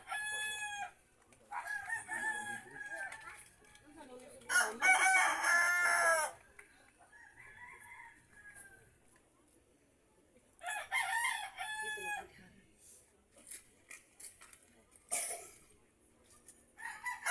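A rooster crows several times in Talisay City, loud and nearby, with long drawn-out calls separated by pauses and some faint clucking in between.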